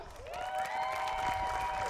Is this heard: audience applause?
yes